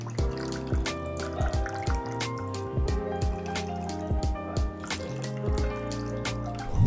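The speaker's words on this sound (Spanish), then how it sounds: "vamos a echar un poco de agua y veréis cómo el agua patina por toda la superficie si está protegido." Water poured over waterproof-treated sneakers, trickling and dripping off the surface in soft splashes, set against steady tonal background music.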